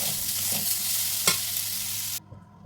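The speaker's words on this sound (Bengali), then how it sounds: "দিয়ে দেবো পনিরগুলো, দিয়ে দেবো অল্প নুন, হালকা করে ভেজে তুলে নেব" Paneer cubes fry in oil with a little salt, hissing loudly and steadily in the pan. A single sharp clink of a spatula lands partway through, then the sizzle drops suddenly to near quiet.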